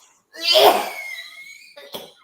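A single harsh cough bursts out loud and close, followed by a brief rasping breath and a short second cough.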